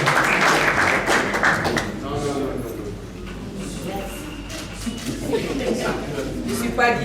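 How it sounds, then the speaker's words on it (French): Audience applause at an awards ceremony, a steady wash of clapping that is loudest at the start, thins through the middle and picks up again near the end, with voices talking over it. "Est-ce qu'on peut applaudir bien fort pour eux une fois de plus?"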